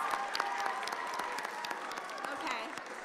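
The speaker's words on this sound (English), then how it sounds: "Can we have a round of applause?" An audience at a school career and technical education showcase gives steady applause with some cheering, a moderately loud, continuous patter of clapping from a crowd.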